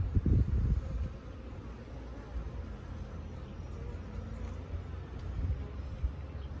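Honey bees humming and buzzing around an open single brood chamber hive in late spring, a steady soft drone with a louder burst near the start and faint handling sounds.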